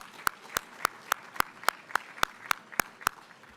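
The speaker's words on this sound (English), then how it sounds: "Now we'll give them their applause" Clapping at a luncheon, a run of about a dozen crisp, evenly spaced claps in a steady quick rhythm, moderately close against a quiet room.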